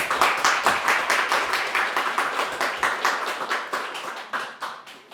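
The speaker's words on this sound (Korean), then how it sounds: "여러분 따뜻한 박수로 맞아주시면 감사하겠습니다." An audience at a student smoking-prevention policy forum at the National Assembly claps to welcome a speaker, a steady burst of many hands that stays dense and close before thinning out toward the end.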